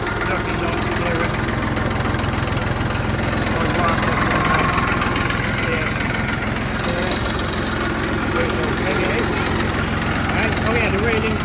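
A Tafe 45DI two-wheel-drive tractor engine runs steadily at close range, a continuous low diesel rumble and vibration with people talking over it throughout.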